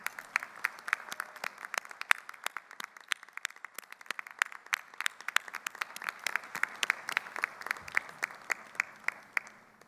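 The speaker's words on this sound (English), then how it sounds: "Please stand and give them a big round of applause." Audience applause at a college commencement ceremony, sustained crowd clapping throughout, a dense even patter of many hands, moderately distant and fairly quiet.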